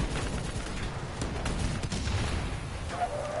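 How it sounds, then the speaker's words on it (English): Gunfire in a video game, GTA 5 or Black Ops 3: a dense, continuous rattle of rapid shots and crackling bursts, loud throughout. "Oh shoot! I'm getting shot at."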